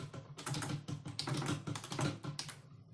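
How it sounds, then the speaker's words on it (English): A web link is typed on a computer keyboard in a steady run of quick, close keystrokes with short pauses between bursts, and no one talks. "run the internet browser and type the link to the Blitz-PRO"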